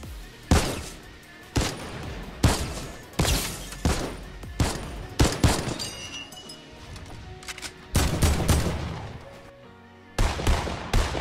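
Enemy gunfire aimed at the player in a shooting video game: a series of sharp, separate shots and short bursts at an uneven rhythm, fairly loud, with no talking.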